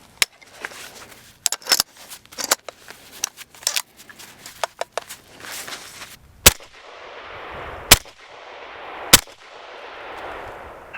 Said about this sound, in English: we will shoot it and see just kind of how it works